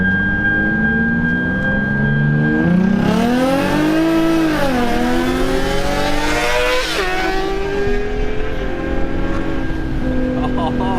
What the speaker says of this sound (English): We got Zach behind on the bike. See if we can get him to do a flyby real quick.